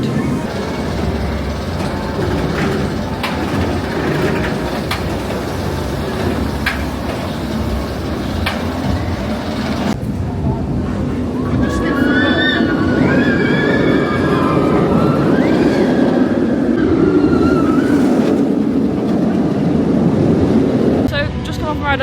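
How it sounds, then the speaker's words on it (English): Roller coaster train on the Nemesis Reborn ride rattling along the track, heard from onboard with heavy wind rush and rumbling clatter throughout, riders' voices and screams rising in the second half. "I was on a rattly train there."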